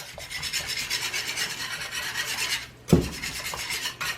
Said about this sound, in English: make sure that you whisk it where there's no lumps